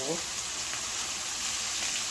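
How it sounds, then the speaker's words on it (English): An omelet sizzles and crackles in a hot skillet, a steady hissing fry with faint pops, heard up close. "I just love the sound of the sizzle."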